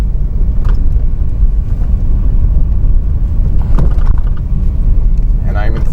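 Inside a manual car rolling slowly in third gear at under 40 km/h, a loud low road rumble and engine drone fill the cabin, with a few short knocks and clicks.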